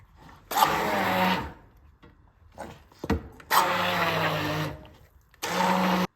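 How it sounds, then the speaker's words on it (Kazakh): A blender mixes cottage cheese pie batter of sugar and eggs in three loud, whirring pulses of about a second each, with short quiet pauses between them. "Бұған кейін барлығын блендермен араластырып шығамыз."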